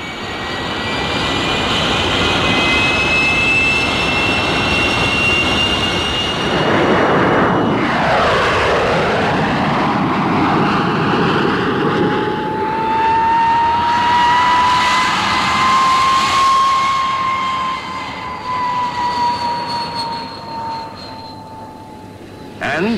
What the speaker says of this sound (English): And the P-1067, the fastest fighter flying today.